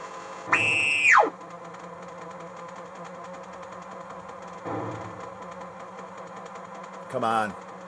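Engine tone from a 1976 Exidy Death Race arcade video game: a sharp electronic rising whine, a quieter mid-clip burst and a final rough revving blip over a steady machine hum.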